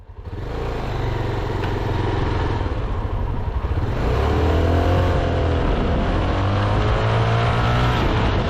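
A Honda NX650 Dominator single-cylinder dual-sport motorcycle engine runs steadily and loudly throughout, its low rumble swelling to a stronger, rising note about halfway through as it pulls harder, with no talking.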